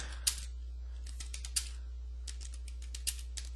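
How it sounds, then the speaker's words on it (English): Light typing on a computer keyboard, scattered key clicks in short uneven bursts with a few sharper taps, quiet and close over a low steady hum, no voices. "Then when I type my text,"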